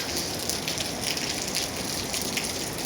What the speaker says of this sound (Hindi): रात से बारिश हो रही है। मैं सुबह उठी तो भी बारिश हो रही है